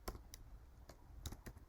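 A computer mouse clicks in quick, irregular single and double taps while someone works through a tutorial. The clicks are sharp and close but quiet over a low background hum.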